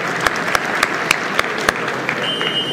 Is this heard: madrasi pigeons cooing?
no